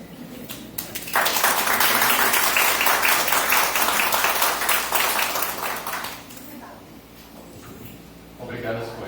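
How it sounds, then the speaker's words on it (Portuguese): An audience breaks into loud applause after a talk. Dense clapping starts abruptly, holds for about five seconds, then tapers off, and a voice begins speaking as it dies away. "Eu gostaria de aplaudir."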